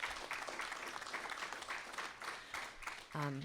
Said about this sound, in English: I really want to give a round of applause to all the folks who are part of that.